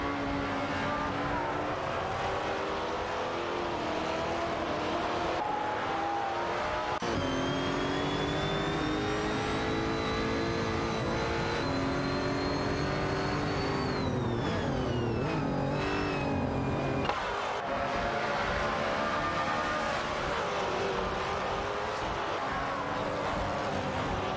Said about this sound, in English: Unipaki driving a Nissan 370Z Nismo GT4 and Simple Markers in a Lotus Evora GX GT4.